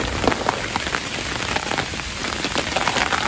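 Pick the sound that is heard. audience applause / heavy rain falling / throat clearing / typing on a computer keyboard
heavy rain falling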